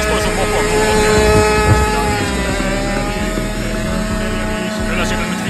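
A moped engine running at a moped meet in Mäntsälä, Finland, a loud, close, continuous buzzing drone with a rough low throb, mixed with talk and other engine noise.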